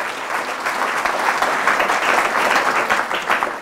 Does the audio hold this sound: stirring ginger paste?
no